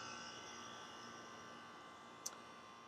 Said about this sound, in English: And my air conditioning is saying